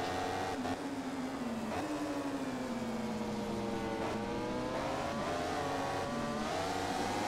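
A MotoGP 15 racing game motorcycle at Jerez accelerates hard, its steady engine whine climbing in pitch with brief dips at gear shifts, loud and continuous throughout with no talk.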